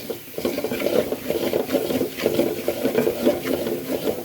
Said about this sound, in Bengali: এবার ভালো করে নাড়াচাড়া দিয়ে একদম শুকিয়ে নেব